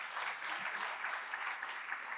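A church congregation applauds in a dense, even patter of clapping that stays faint and distant throughout.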